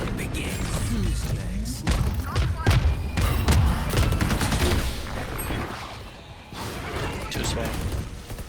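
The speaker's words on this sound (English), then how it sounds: "All missiles away." Missile barrage ultimate fired in a team shooter game, a dense run of thumps, blasts and rapid gunfire stacked over one another, loud and close, with a player speaking over the action.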